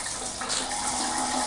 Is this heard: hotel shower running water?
yes